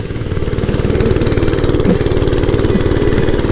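An Oryxearth 105cc mini bike engine runs close and loud, a steady rapid chugging putter that rises slightly at the start and then holds even, with no voices.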